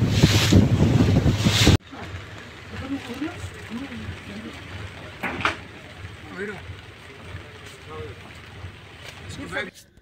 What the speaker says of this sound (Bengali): এত ঢেউ আর এত হাওয়া দিচ্ছে, আমি ফোনটা নিয়ে দাঁড়াতে পারছি না,